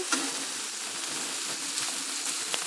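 Rice being stirred as it fries and browns in a pan with oil for Syrian Lebanese rice, a soft continuous sizzle with light scraping strokes, moderately quiet.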